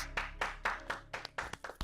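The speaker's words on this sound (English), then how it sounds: "round of applause, everybody" Audience applause heard as a handful of faint, distinct hand claps, spaced irregularly, then coming quicker toward the end, soft and thin in the room.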